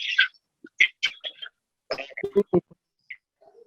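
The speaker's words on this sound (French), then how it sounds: "Qui tousse beaucoup comme ça?" Several short, sharp coughs and throat-clearing bursts come in quick succession, fairly close, with brief pauses between them and no talking.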